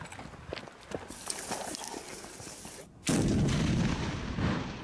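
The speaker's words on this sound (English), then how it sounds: "Indian and Chinese soldiers lobbing grenades and then storming a building, attacking imaginary targets" Grenades explode during an India-China joint military exercise: a run of muffled, thudding blasts and rumbling impacts, then one louder, closer boom that rolls on amid outdoor commotion.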